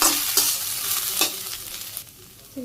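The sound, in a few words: mola greens being stir-fried in a pan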